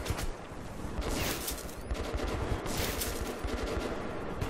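Gunfire in the video game Metro 2033 Redux, rapid repeated bursts of shots crackling over a dense background of combat noise, loud and sustained for several seconds.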